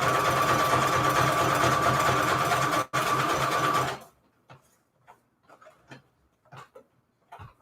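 A sewing machine runs a zigzag stitch with black thread through paper, giving a steady rapid mechanical whir that stops abruptly, followed by soft clicks and handling taps.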